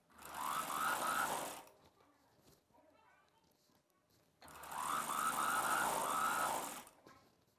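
Sewing machine stitching a folded one-inch fabric edge on a boat neck Punjabi dress, two loud sustained whirring runs separated by a quieter pause with handling noise and soft talk.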